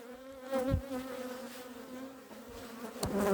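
Honey bees buzz steadily at an apiary in May, a dense continuous drone with a few louder passes near the microphone.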